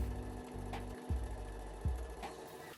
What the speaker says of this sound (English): I'm just gonna sew here with a edge stitch and sew it closed